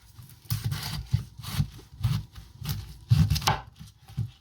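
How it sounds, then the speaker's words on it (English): A knife slicing through a halved red cabbage into quarters on a cutting board, giving a series of crisp, irregular chops and crunches, close and clear with no talk. "once we've halved our cabbage, we will half it again, so in quarters"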